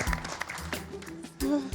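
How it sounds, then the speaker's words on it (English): Applause from contestants in a miniature-making competition workshop, a short burst of clapping mixed with cheering voices that swells loudly near the end. "give yourselves a big round of applause"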